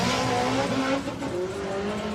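A four-wheel drive Audi rallycross car, Chris Waterhouse's, launches hard in a drag-style qualifier, its engine roaring loud and close with a rising, strained note and some tire noise.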